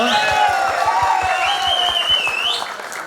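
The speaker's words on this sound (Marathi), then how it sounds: "तर एकदा जोरदार टाळ्या त्यांच्यासाठी होऊ दे" Audience at a school reunion clapping for a singer: steady, fairly loud rhythmic applause from a gathered crowd, with sustained music tones playing alongside.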